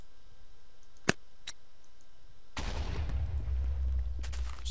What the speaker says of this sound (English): It shoots a grenade.